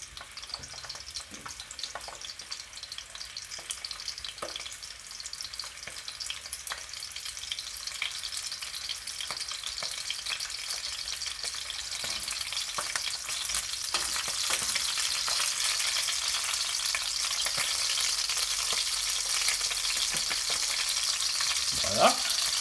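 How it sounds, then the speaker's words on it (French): Sausages brown in a cooking pot with a steady, hissing sizzle of frying fat, growing slightly louder over time, with occasional stirring clicks and no talk. "On les fait revenir sur chaque côté."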